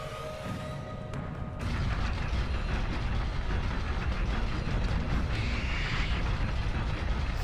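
A crank mechanism turns in the God of War II video game, a loud, dense grinding rumble of heavy machinery that swells after a brief softer start and continues steadily, without speech.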